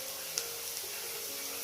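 Ingredients for restaurant-style paneer fried rice frying in a pan, an even hissing sizzle throughout with one small tap, faint and continuous.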